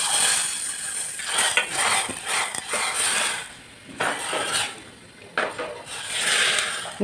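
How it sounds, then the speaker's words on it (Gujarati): A spoon stirs hot oil tempering into dal in a cooking pot, with repeated metallic scrapes and clinks in uneven bursts, close and moderately loud, without speech. "આવી રીતે હલાવી એટલે જે વઘારિયામાં જે વઘાર તેલ બધું ચોંટ્યું હોય એ બધું અંદર જતું રહે દાળમાં"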